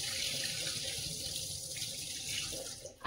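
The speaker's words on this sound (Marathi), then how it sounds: "तर चला आता मी डाळ धुवून घेते।" Dal lentils being washed under a running kitchen tap, a steady hiss and splash of water into a sink that holds constant throughout, with no speech.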